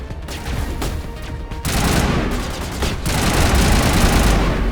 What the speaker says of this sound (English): this game is just like 10 times easier with an assault rifle